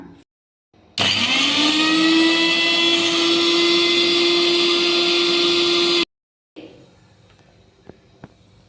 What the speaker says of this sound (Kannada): ಕೊತ್ತಂಬರಿ, ಪುದೀನ ಸೊಪ್ಪು, ಶುಂಠಿ, ಬೆಳ್ಳುಳ್ಳಿ ಇದೆಲ್ಲ ಹಾಕಿ ಇದನ್ನು ಫೈನ್ ಪೇಸ್ಟ್ ಮಾಡ್ಕೊಂಬರೋಣ